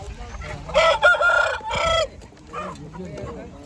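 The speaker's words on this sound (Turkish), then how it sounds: "Bak küllü güzel bir horoz." A rooster crows loudly and close by, one drawn-out call, followed by softer clucking from nearby fowl.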